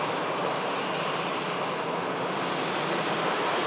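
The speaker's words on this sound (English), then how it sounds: "We have an aircraft on finals as well. A Loganair 73 coming in from Copenhagen" A Loganair aircraft on final approach to Manchester Airport, arriving from Copenhagen: a steady, fairly loud broadband engine roar that holds evenly throughout with no voices.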